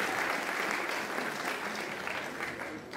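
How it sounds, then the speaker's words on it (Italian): Audience applause as Anna Bruno walks on stage in an evening gown at a charity event, a full, close round of clapping that eases slightly over three seconds with a faint voice underneath. "facciamo un applauso all'ingresso di Anna Bruno che sale sul palco"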